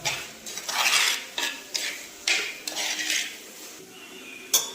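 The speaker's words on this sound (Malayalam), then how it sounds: "നല്ലോണം ഇളക്കി നല്ലോണം മണക്കൊന്ന് പോട്ടെ" A spoon scrapes and knocks around a pot while chicken curry with coriander powder is stirred, producing repeated rhythmic scraping strokes and clinks, close and fairly clear, with a faint sizzle underneath and no talking.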